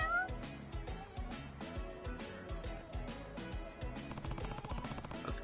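Cats meow in the video game Judgment, repeated plaintive mews and caterwauls over a busy rhythmic musical backing, fairly faint overall.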